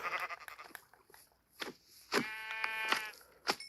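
Minecraft sheep bleating in the video game, a few wavering bleats among soft scattered clicks, fairly close and without talk over them.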